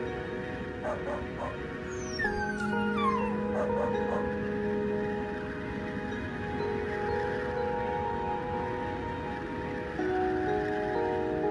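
Dogs whimper and yip at night in the snow toward a forest, with a few sharp falling whines early on over a steady tonal drone, the calls close and moderately loud amid a continuous background hum.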